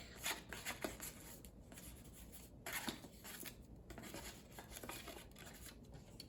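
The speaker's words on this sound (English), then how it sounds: "You're gonna take all the tissue paper off of them." Thin tissue paper is peeled and pulled away from sheets of paper, making soft continuous crinkling and rustling with a few louder tearing strokes, close but quiet and without speech.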